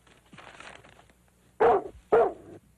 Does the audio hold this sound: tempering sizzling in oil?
no